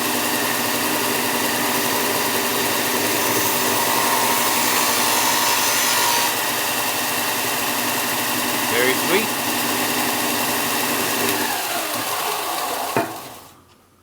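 A power sander grinds down a rough edge in a loud, steady whir that runs almost the whole clip, then cuts out near the end; a person speaks briefly over it.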